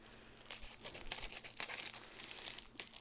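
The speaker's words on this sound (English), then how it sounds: "if I can figure out how to get into this packaging, I think I have to cut it" Close crinkling and crackling of plastic being handled and pulled at, continuous and fairly soft, with small sharp crackles throughout.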